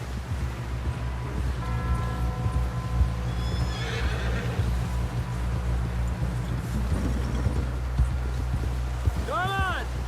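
Horses in the Red Dead Redemption 2 cowboy game whinny sharply and gallop with steady clip-clop hoofbeats, close and loud, over a low rumbling background.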